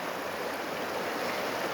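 Floodwater from a mudflow in Kotur Bulak rushes steadily, close by and loud, as a continuous broadband roar with no talk over it.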